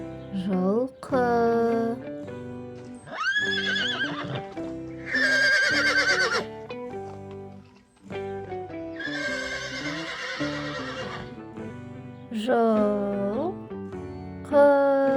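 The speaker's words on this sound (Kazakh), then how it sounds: "Жылқы." A horse neighs and whinnies several times in loud, close bursts, with faint hoof clip-clops and short gaps between the calls.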